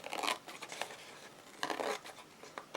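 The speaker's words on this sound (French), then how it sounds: "Ensuite, on prend les ciseaux." Scissors trim the excess paper napkin glued onto a card, giving two short bursts of crisp snipping and paper rustle separated by a pause, close and soft.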